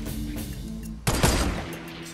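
A sniper rifle shot from Fortnite gameplay cracks once sharply after a stretch of low background noise, followed by a brief second report and fading tail.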